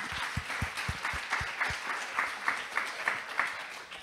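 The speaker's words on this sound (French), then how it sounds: "Oui, on peut l'applaudir." Audience applause at a public citizenship debate, fairly faint and sparse, with individual claps audible at first and a soft, scattered patter continuing throughout.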